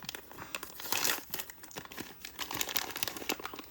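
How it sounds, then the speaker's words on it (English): Crinkly plastic bag handled while unboxing a Zuru Mini Brands Fashion Series 4 item, a run of close, irregular crackling and rustling bursts that rise and fall in loudness. "so this is another plastic bag"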